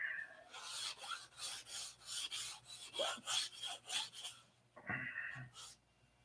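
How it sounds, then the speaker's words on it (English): Sandpaper of 320 grit rubs back and forth on a P-47 model aircraft wing, a series of close, rhythmic rasping strokes with short pauses between passes. "I'm going to sand this down with 500 too. This is 320 I'm sanding with."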